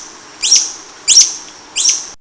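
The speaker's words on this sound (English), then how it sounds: "hummingbird" A hummingbird gives three short, high chirps evenly spaced about half a second apart, clear and close with no other sounds.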